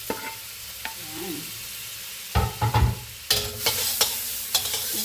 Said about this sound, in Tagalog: Gigisahin ko na sa garlic guys.